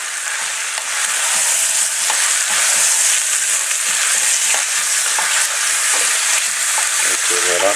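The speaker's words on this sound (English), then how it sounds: "I'm just going to put all that meat in there" Beef meat hits a hot pan and fries with a loud, steady broadband sizzle that swells after the first second and continues close up, with scattered crackles and scraping throughout.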